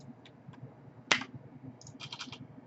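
Someone types a short name on a computer keyboard in a quiet room: a few scattered key taps, then one sharp click and a quick burst of several keystrokes close by.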